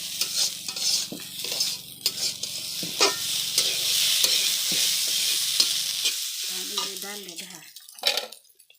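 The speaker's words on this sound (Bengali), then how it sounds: "চালটা অল্প কষিয়ে দিব।" Rice being stir-fried in a pan for khichdi, a continuous sizzle broken by repeated scraping stir strokes, close and fairly loud, with a brief voice near the end.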